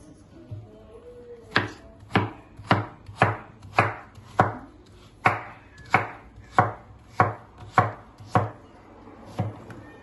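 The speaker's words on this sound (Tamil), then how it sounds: "இப்போ நாங்கள் வெட்ட போகிறோம்" A knife chopping food on a board in a home kitchen, with about fifteen sharp, crisp strokes at a steady, slightly uneven pace, close and clear with no talking.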